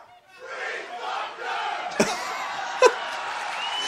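A comedy club crowd at an Andrew Dice Clay show roars and whoops in a sustained wave of cheering, with a couple of sharp shouts standing out near the end.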